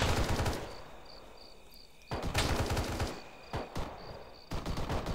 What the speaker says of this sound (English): Heavy fire coming down on the house.